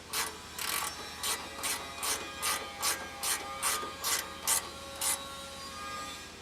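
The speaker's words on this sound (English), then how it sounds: "These are going to need to be done with a ratchet wrench" A ratchet wrench loosens bolts on a Tilmor 520 tractor. It makes about eleven short bursts of ratcheting clicks in a steady rhythm, close and clear, with no talk.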